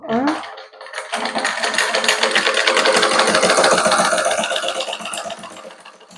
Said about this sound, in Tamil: ஒரு தையலை போட்டுட்டு நீங்கள் தைக்க தொடங்கணும்